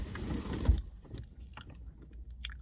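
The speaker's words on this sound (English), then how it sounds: "We're eating Cold Stone" Close, quiet eating of Cold Stone ice cream, with soft spoon scrapes and mouth sounds, a denser burst at the start followed by sparse small clicks.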